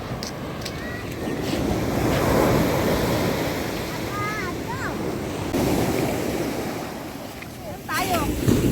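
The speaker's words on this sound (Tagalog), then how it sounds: "Malakas yung alon pero mahaba naman yung shoreline niya." Strong surf breaks on a long beach shoreline at De La Paz, San Narciso, Zambales, a loud continuous roar of waves rushing in, with wind buffeting the microphone and brief bird-like chirps in the background.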